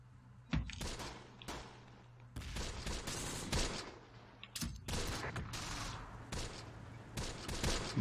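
Gunfire in the Close Combat: The Bloody First video game, with grenadiers being fired on: irregular loud shots and short bursts, some with deep thumps, scattered closely over several seconds, no speech.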